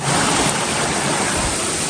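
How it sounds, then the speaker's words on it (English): A waterfall at Bowden Hill in Kingston, Jamaica roars as a loud, steady broadband rush of falling water, close and continuous with no other sounds. "Waterfall up there"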